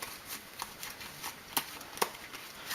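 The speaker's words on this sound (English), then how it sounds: "Alright, then we shuffle these." A deck of cards for the Attack on Omaha Beach board game gets shuffled, with soft riffling flicks and a few sharper snaps, quiet and close with no voices.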